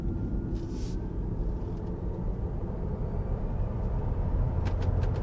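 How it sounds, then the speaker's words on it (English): A steady low rumble of road noise fills the cabin of a Tesla Model 3 driving at around 45, a constant tire and road drone with a few faint ticks and clicks on top. "so there is a little bit of road noise, but you can tell it is actually a lot quieter"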